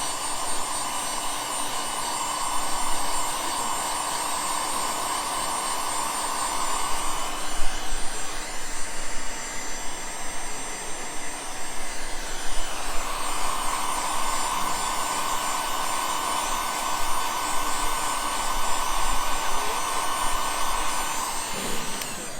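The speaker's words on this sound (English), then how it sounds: "Now I'm going to use this monster heat gun to dry this some." Large heat gun blowing hot air to dry sublimation ink at a live craft session in Orlando: a steady, close, loud fan hiss with a high whine that briefly changes pitch midway, then carries on unbroken.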